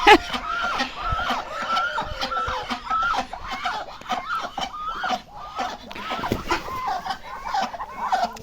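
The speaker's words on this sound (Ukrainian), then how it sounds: "Качені розборки." Several ducks squabble at close range in snow, a busy overlapping stream of harsh quacks and squawks, with a person's voice now and then.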